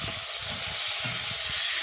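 Yardlong beans sizzling in hot oil in a pan, a steady close hiss with faint crackle running throughout, no voices.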